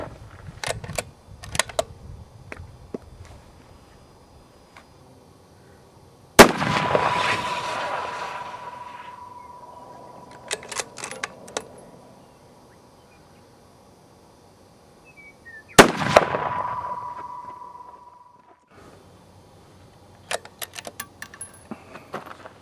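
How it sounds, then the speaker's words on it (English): Smith & Wesson (Howa) Model 1500 .223 rifle firing fouling shots: two loud, sharp reports spaced about ten seconds apart, each with a long ringing decay, amid small handling clicks and knocks. "So I'm going to fire a couple of fouling shots and then we'll get started."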